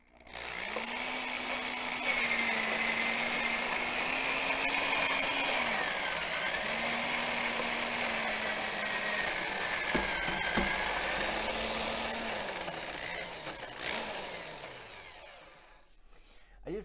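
A motorized grain mill crushes German Pilsner and Vienna malt with a steady, high-pitched whine and grinding rush, holding for most of the stretch before spinning down at the end.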